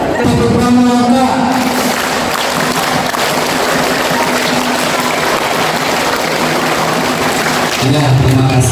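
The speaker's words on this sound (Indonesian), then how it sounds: "Tepuk tangan." A crowd at a school Youth Pledge commemoration ceremony applauds in a loud, continuous wash of clapping, with a voice speaking over it at the start and again at the very end.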